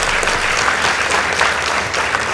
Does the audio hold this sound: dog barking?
no